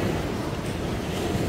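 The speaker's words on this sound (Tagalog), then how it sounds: "tubig, dagat na humahampas sa buhangin" Sea waves breaking on the sand at Albufeira, Portugal, a steady broad wash of surf with wind, continuous and fairly close, with no voices.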